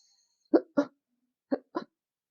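Four quick, sharp hiccups come in two pairs, close and fairly quiet, with silence between them.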